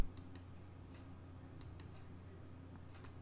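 Quiet, sparse mouse clicks, a handful of short sharp ticks at irregular spacing, made while drawing in Photoshop on a computer, over a faint low electrical hum.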